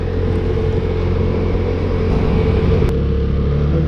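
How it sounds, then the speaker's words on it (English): A Vespa GTS300 Super scooter out on the road, its engine holding a steady, loud, close drone with road and wind rumble underneath and no voices. "So here we are, finally out on the Vespa."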